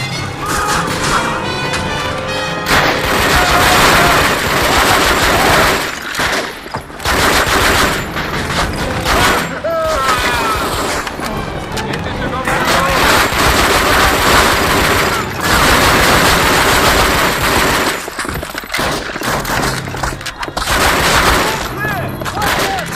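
Machine gun fire from a World War II Call of Duty game rattles in long, loud, close bursts, mixed with explosions, crashes and shouted voices.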